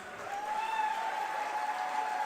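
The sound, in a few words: audience round of applause welcoming Sadhguru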